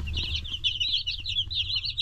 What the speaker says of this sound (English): We ordered 30 of these little broilers.